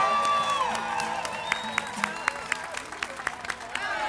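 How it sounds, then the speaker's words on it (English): A large outdoor crowd at Fort Worth's All-America City celebration cheers and applauds, a busy wash of claps, whoops and shouts running under a loud amplified speaking voice, with sharp claps and whistles standing out. "Let's give Fort Worth a lot to cheer about."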